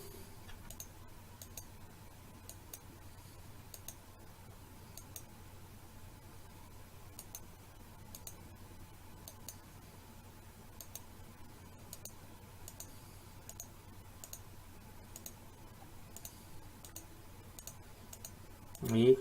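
Computer keyboard keys clicked in a quick, light series of taps, with Alt and Shift pressed during 3D modelling work in Blender; the clicks come fairly close over a low steady hum, with no talk.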